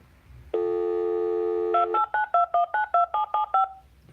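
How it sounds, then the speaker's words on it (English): Telephone keypad dialing: a steady dial tone held for over a second, then about nine short evenly spaced DTMF key beeps in quick succession, clear and close with no talk. "Pick it up, dial,"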